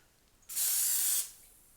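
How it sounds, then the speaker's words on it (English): Cooking oil spray on a hot waffle maker while making a chaffle: a single close, bright hiss lasting under a second, starting and stopping abruptly against quiet. "Take a little spray to it."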